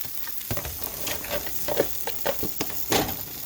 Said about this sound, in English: Fry the bologna.